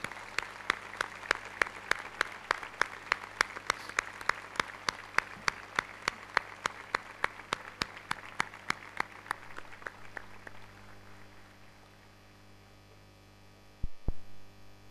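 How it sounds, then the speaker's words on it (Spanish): Applause for the Santísimo Cristo de la Laguna at a religious gathering, steady clapping that fades out toward the end over a low mains hum, with one sharp knock near the close. "Y para Él también nuestro aplauso afectuoso de respeto y devoción."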